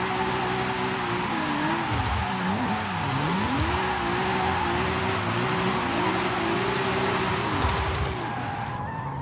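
Car tires peeling and squealing in fourth gear in Forza Horizon 5, a loud continuous screech with wavering pitch over the engine's drone, lasting nearly the whole time before fading at the end.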